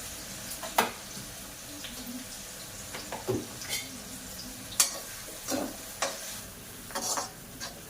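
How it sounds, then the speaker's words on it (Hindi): Onions dropped into hot oil with cumin, frying with a gentle sizzle while a spoon stirs and clinks against the pan at intervals, close by and moderately quiet. "और अब इसमें डाल दूंगी मैं प्याज।"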